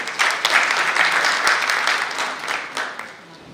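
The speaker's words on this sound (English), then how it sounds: "Ladies and gentlemen, a huge round of applause for Ms." Audience at a business event welcoming a speaker with applause, a full burst of many hands clapping together that swells quickly, holds, then tapers off.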